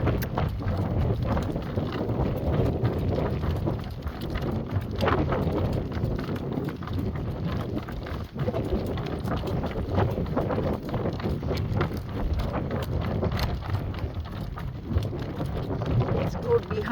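A horse named Greentree Lady's Man trots steadily while pulling a driver, its hooves clip-clopping in a fast, even rhythm under strong gusting wind noise that buffets the microphone throughout, with occasional low voice nearby.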